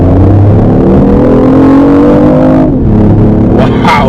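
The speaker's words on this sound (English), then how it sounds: "Wow, hold the RPMs a lot higher" A BMW i8 in sport mode revs hard and holds high RPM, a loud sustained engine drone with rising harmonics that dips briefly near the end before surging again.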